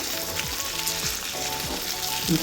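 Brinjal pieces fry in a hot pan with oil, ginger and garlic, giving a constant close sizzle with a few soft thuds as pieces are dropped in, no speech.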